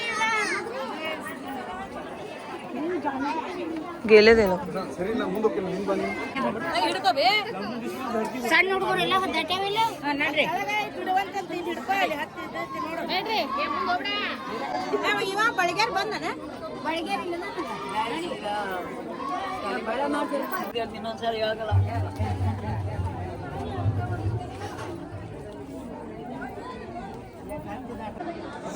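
A dense crowd of pilgrims at the Hampi temple, the birthplace of Hanuman, keeps up a steady hubbub of overlapping chatter, with children's voices among it and nearby people talking over the noise.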